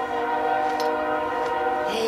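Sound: train passing with horn, Sacramento area

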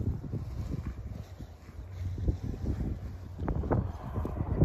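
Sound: wind blowing outdoors

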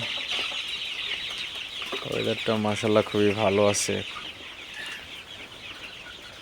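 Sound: Sonali super hybrid chickens clucking on a farm

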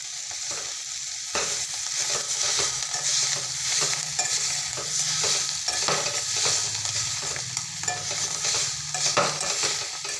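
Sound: cowpea vegetable curry cooking and being stirred

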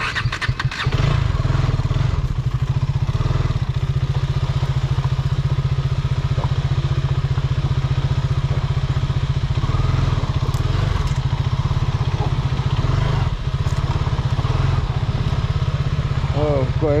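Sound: KTM dirt motorcycle engine on a night trail

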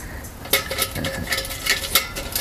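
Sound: handling Toaks titanium frying pan and Solo Stove

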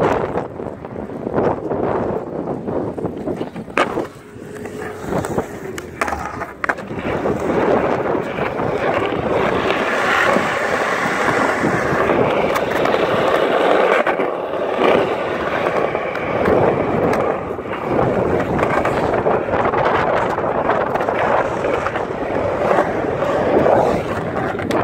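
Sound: strong wind at an outdoor skate park

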